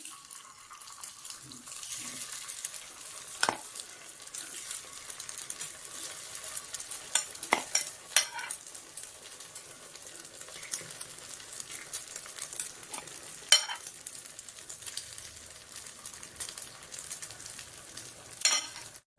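Egg and onion batter sizzles in an oiled paniyaram pan with a soft, continuous frying hiss at low volume. Scattered light clicks and taps from utensils break through, and a faint voice occasionally sits under the frying.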